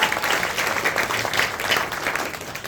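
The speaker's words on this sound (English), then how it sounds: "Make some noise for everyone that's been on so far" Audience at a Nottingham poetry event applauding and cheering, a continuous dense wash of clapping from a crowd that holds steady throughout.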